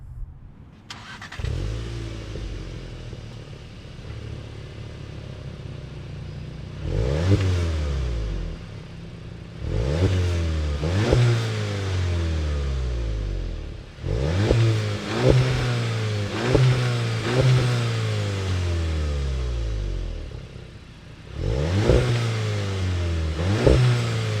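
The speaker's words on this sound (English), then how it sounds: "let's go ahead and listen to that exhaust" A 2019 Volkswagen Golf GTI starts and its exhaust revs repeatedly, each blip rising and falling in pitch with a deep throaty burble between revs, close and loud.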